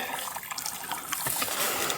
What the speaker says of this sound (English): Just trickling off the mountainside.